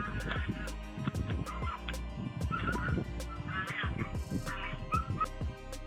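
Domestic geese honk and cry in frantic, overlapping bursts while a feral cat attacks them on a farm, the calls dense and continuous over steady background noise.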